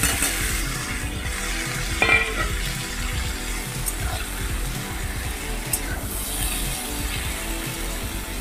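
Washed, cut potatoes hit hot oil with tempered spices in a pan and fry with a steady, close sizzle, broken by a few scraping stirs.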